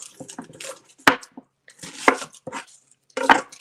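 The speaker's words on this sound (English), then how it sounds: "I don't know if you can see me chopping or not." Chef's knife chopping garlic on a board, with three sharp, loud chops standing out against quieter scraping and handling sounds between them, and no talk.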